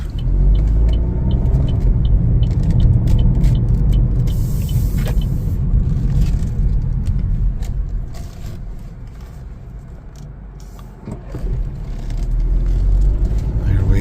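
A 2025 Chevrolet Trax 1LT on the road, a steady low interior rumble of engine and tires that eases slightly then builds again, heard from inside the cabin.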